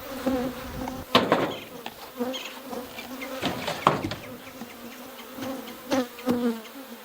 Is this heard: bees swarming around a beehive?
yes